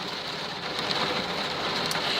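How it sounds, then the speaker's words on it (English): Rain falling steadily, a dense even hiss of drops on surfaces that holds at a constant level, with a few faint pattering ticks and no voices. "ooh, it's raining."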